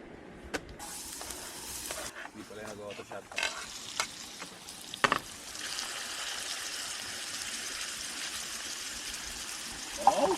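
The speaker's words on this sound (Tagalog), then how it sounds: "It's what you call mushroom na ginisa." Mushrooms sauté in a pan at a riverside campsite, a steady soft sizzle with occasional stirring and scraping clatter. A few brief clinks stand out over the continuous frying noise, and nobody speaks.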